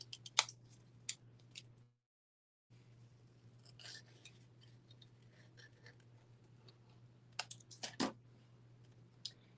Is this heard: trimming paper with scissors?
yes